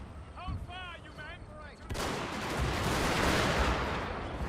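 Gunfire from units in the Total War: Fall of the Samurai battle game: a dense, sustained crackle of massed musket volleys starts abruptly and roars on loudly after a stretch of quieter battlefield sound, with voices heard before it.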